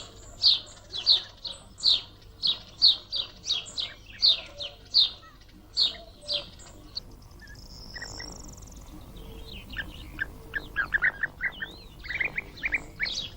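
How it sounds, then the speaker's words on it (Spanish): Birds near a seasonal pond give repeated sharp alarm calls in a steady rhythm, then quieter, mixed chirps and twitters from several birds, fairly close against a faint outdoor background. "el aviso de cualquiera de las aves que detecta a la culebra es perfectamente entendido"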